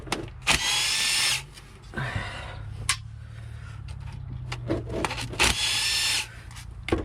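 A power wrench whirs in two short bursts, driving out the bolts of a transmission valve body during a fluid service, with clanks and tool handling in between the runs.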